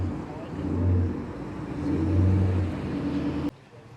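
A Holden Monaro V8 rumbles at a car meet outside the Ace Cafe in London. The low engine note swells twice in deep revving surges, nearby and fairly loud, then cuts off abruptly, with voices mixed faintly into the scene.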